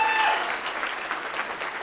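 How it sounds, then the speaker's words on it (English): An audience claps for a doctor just introduced as a speaker. The applause is dense and even, filling the room for a couple of seconds before starting to thin. "So a nice round of applause for Dr. Barnhill."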